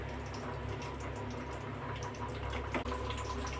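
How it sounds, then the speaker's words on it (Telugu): Water pours steadily into a pot of half-cooked rice for prawn biryani with a continuous splashing, filling sound, no voices present. "Water 1 cup పోసేసుకున్నాం."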